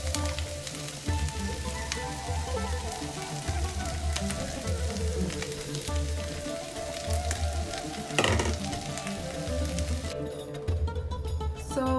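Minced meat for samosas fries in a pan with onions and green pepper, a steady, close hiss and crackle of sizzling throughout with occasional stirring and clatter, Kenyan street food style.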